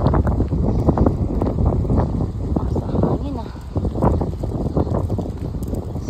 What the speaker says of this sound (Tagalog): Malakas ang hangin ngayon dito.